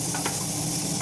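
Groundnut oil hisses and sizzles in a small hot pan on a lit stove, a continuous close, fairly loud crackle with no talk over it.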